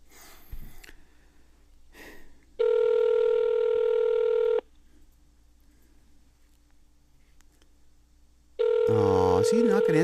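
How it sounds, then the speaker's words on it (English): An outgoing call to a law office rings twice on the line, each steady electronic ring lasting about two seconds and separated by a quieter gap with faint breathing and noise. "Oh, is he not going to answer the phone?"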